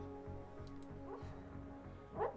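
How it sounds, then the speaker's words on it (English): A dog barks faintly in the background of an indoor room, with two short, distant yaps over a steady low hum and soft rhythmic thumps. "If you can hear my dog barking in the background,"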